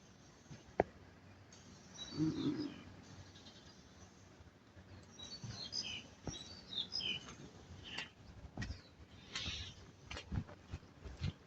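Small birds chirp and tweet intermittently outdoors, fairly faint, with scattered short calls over a quiet background and occasional soft bumps.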